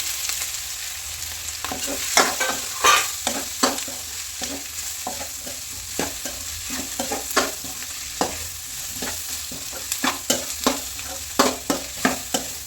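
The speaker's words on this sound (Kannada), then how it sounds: "ಈಗ ಇದಕ್ಕೆ ನಾವು ಫ್ರೈ ಮಾಡ್ಕೊಂಡಿರ್ತೀವಲ್ಲ ಹಾಗಲಕಾಯಿ, ಇದನ್ನು ಸೇರಿಸ್ತಾ ಇದ್ದೀನಿ." Fried bitter gourd being added to a pan over medium flame and stirred, a sizzle running underneath repeated scraping and clacking strokes of a spoon against the pan, fairly loud and close.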